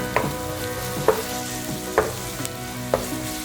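Liver and onions frying in oil in a pan until golden brown, a steady close sizzle broken by several sharp stirring scrapes about once a second, with no talking.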